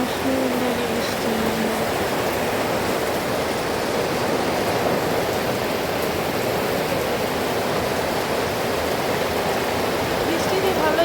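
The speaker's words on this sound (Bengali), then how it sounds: "মুষলধারে বৃষ্টি" Torrential downpour pouring steadily, a dense, even hiss of heavy rain that stays loud and unbroken throughout with no pauses.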